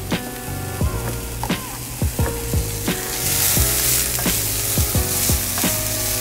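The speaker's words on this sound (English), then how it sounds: "I'm adding the onions and the garlic to the pan first." Onions and garlic frying with mushrooms in a pan for a veggie quesadilla, a continuous loud sizzle with repeated sharp scraping stirs of a utensil against the pan, close and without speech.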